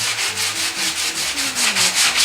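Hand sanding a fiberglass kit car's gelcoat with a sanding block over a stress-cracked dent, close and steady, with rhythmic back-and-forth rasping strokes and no talk.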